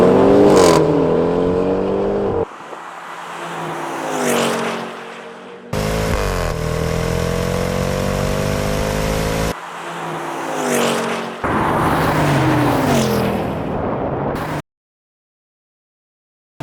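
Performance SUVs, a BMW X4M, Mercedes GLC 63S and Jaguar F-Pace SVR, drag racing: loud engines rev and accelerate through rising gear changes, with abrupt cuts between passes and a final fade to silence.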